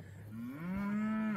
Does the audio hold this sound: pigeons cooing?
no